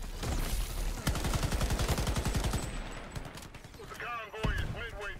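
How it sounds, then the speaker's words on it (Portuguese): Rapid automatic gunfire from the Shatterline first-person shooter, a dense burst of evenly spaced shots followed by a few more scattered cracks, with a voice talking over the end. "De onde tá esse cara me atirando"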